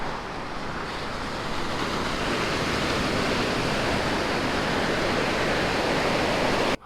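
Ocean surf on Malibu beach roars as a steady, dense wash of broadband noise, with no separate wave crashes standing out and no voices.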